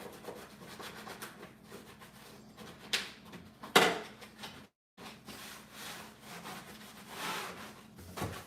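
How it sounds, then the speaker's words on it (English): Sponge scrubbing a dirty dishwasher filter, a steady rough rubbing with a few louder strokes near the start, a brief silent gap, then continued close scrubbing. "I'm just gonna take my sponge and I'm just gonna scrub"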